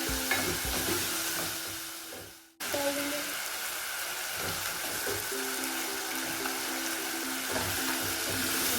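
Garlic powder with black and white pepper sautés in a pan, a close, steady sizzle that briefly cuts out, then resumes with light stirring.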